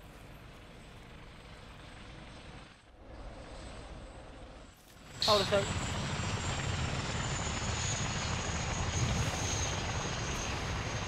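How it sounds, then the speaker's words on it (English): A helicopter's rotor roar in the video game Arma 2 suddenly swells in, loud and close, then holds as a steady thrumming drone, after a brief spoken remark. "I hear a plane! Helicopter!"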